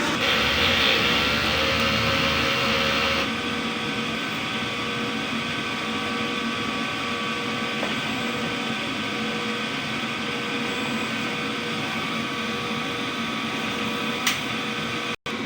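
A DTF printer runs a print head cleaning cycle with a steady mechanical whir and hum, close by and continuous, a louder pump-like burst at the start, then a single click near the end.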